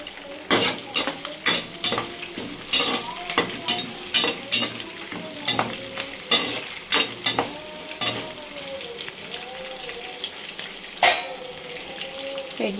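Two onions and four green chilies sizzle in hot oil for tomato rice, with a spoon scraping and knocking the pan in repeated bursts over the constant frying hiss, close up and without speech.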